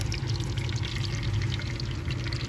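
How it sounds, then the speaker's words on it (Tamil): Spices go into hot oil for tempering, producing a dense, steady sizzle and crackle heard close up throughout, with no talk over it. "எண்ணெய் நல்லா சூடாயிடுச்சு. ஸ்பைசஸில் போட்டுடலாம்."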